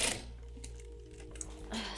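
A home sewing machine runs briefly while top stitching a tote bag, a soft steady whirring hum with small clicks, faint and close.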